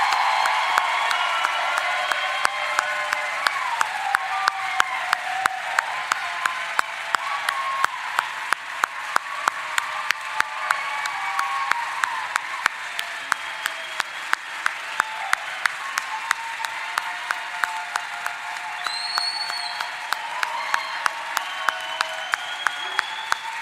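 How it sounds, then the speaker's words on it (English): Sustained applause from a large audience honoring graduates at a 2022 master's programs commencement ceremony, dense steady clapping with a few sharper claps standing out, continuing without a break for the whole stretch. "So please join me in one more rousing applause for our graduates."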